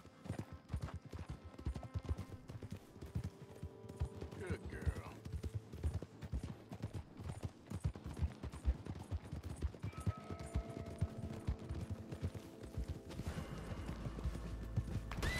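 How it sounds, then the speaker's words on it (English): Horse hooves clip-clop steadily as a horse is ridden in Red Dead Redemption 2, with gunfire-like bursts and other game sounds mixed in, while someone talks over the rhythm. "I'll ride you and we'll bond while my other horse follows behind."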